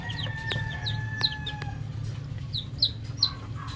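Newly hatched chicks give a scatter of thin, high peeps close by, over a low steady hum with no talking.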